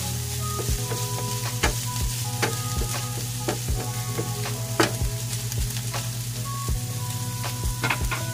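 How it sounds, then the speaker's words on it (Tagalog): Garlic and onion sautéing in a pan, a steady low sizzle broken by repeated scraping and clacking of a utensil stirring against the pan, with no talk. "Igisa lang muna natin maigi yung ating bawang sa ating sibuyas."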